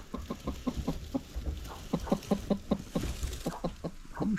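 A hen clucks in a chicken coop with a quick, steady run of short, close clucks repeating over a faint background hum.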